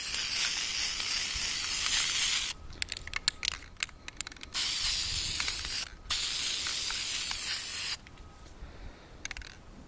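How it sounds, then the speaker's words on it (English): Aerosol primer spray paint misted onto miniature models in several quick bursts, loud close hissing blasts of a couple of seconds each separated by short gaps with faint handling clicks. "you do a couple of quick sprays and it should be relatively done for the most part"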